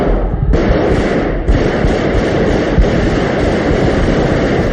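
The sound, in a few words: gunshots in archival broadcast of 1981 Spanish coup attempt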